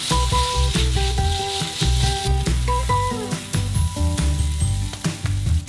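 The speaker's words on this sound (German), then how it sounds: "Und wir braten den Lachs." Salmon fillet frying in a pan with garlic and olive oil, a steady close sizzle and crackle with some clatter of a utensil over it, no talking.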